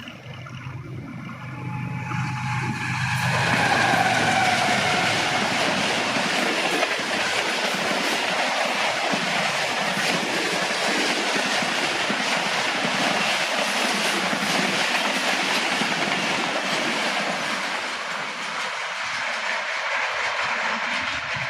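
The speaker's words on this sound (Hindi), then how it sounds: "2:10 और आने वाली ट्रेन है नागिनाब अल्लामा इकबाल एक्सप्रेस" Allama Iqbal Express passenger train running through a railway station near Lahore, a loud continuous roar of wagons with clickety-clack wheel rhythm and faint squeal, sustained close by throughout.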